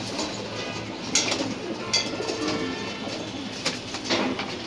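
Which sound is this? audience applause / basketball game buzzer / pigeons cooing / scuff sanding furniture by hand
pigeons cooing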